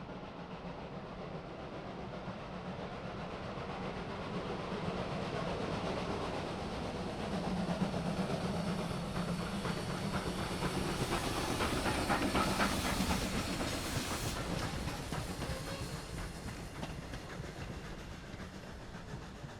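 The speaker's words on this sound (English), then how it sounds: "475 thunders past Groff's Grove with her two-car train" Steam locomotive 475 passes at speed with a two-car train, a loud, steady hiss and rush of steam and wheels that swells toward the middle of the pass and stays strong throughout.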